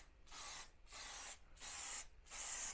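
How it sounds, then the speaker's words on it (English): Loctite spray glue hisses from an aerosol can onto the edges of a tufted rug in four short, even bursts with brief pauses between them, quiet and close, and no talking. "You want to grab yourself some of this spray glue. It's called Loctite."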